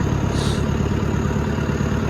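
Low, steady diesel rumble of a tractor engine idling on a cold winter day, close and continuous with a rapid regular chugging pulse.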